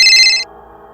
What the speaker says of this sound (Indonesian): Dan tiba-tiba, HP-ku dan mamaku berdering.